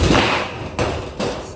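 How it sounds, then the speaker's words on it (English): Two sharp, close thumps from a hammer prying a nail out of a roof, evenly spaced, each with a short ringing decay. "I was able to get the hammer around it and pull the head out, pull the nail out"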